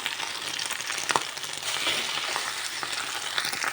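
Meat chops sizzling and crackling steadily in a hot frying pan, a dense continuous hiss with occasional sharper pops, fairly close and alone without talk.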